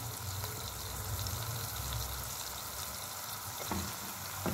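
Food sautés in a pan with a continuous low sizzle and occasional stirring scrapes, faint and close, with no voices.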